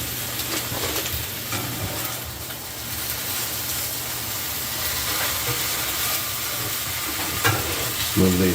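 Hot pastrami topped with American cheese sizzles steadily on a Blackstone flat-top griddle, with a loud, continuous frying hiss and faint scraping, and no voices.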